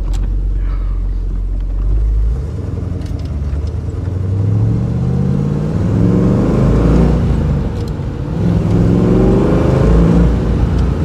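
A fuel-injected 1966 Corvette 427 V8 drives through snow, its deep engine rumble rising and falling through two long, smooth acceleration sweeps, heard from inside the cabin at steady, loud volume.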